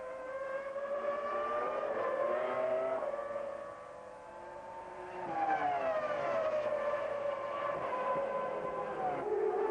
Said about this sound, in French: les Formule 1 déboulent à plus de 350 km/h